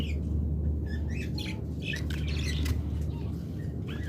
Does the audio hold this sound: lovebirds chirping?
yes